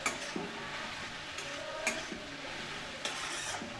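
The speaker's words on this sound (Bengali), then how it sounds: "এই ভিন্ডি ভাজাটা আমি কিন্তু একদম লো ফ্লেমে করব, খুব ভালো হয় লো ফ্লেমে ভিন্ডি ভাজা, লোহার কড়াইতেও খুব সুন্দর হয়।" Okra with turmeric is stir-fried in an iron wok over a low flame, a soft steady sizzle broken by a few sharp scraping and clinking strokes of the spatula.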